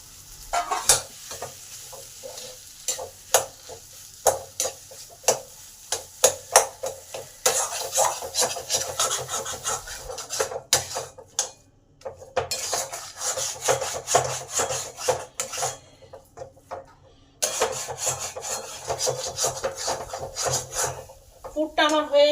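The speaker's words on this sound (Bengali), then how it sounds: "এবারে আলুটাকে ভালোভাবে কষে নেব মশলার সাথে।" Potato filling sautéed with spices in a pan, a spatula scraping and stirring in quick irregular strokes with a soft sizzle underneath, close and clear, pausing briefly a few times.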